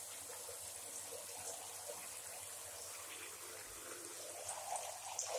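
Running water fills a bathtub meant for a Cape monitor lizard, a soft steady gushing stream heard at low level and fairly distant throughout, no talk.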